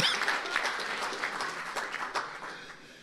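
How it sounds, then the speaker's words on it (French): A festival audience at a round-table debate on Europe's future applauds a speaker, steady dense clapping from a sizeable crowd sustained throughout without speech. "vous pouvez applaudir quand même cet intervenant"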